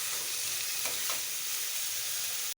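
Chopped banana flower sizzles steadily in hot oil in a pan, a dense, continuous frying hiss with faint crackles, close and fairly loud, cut off abruptly at the end.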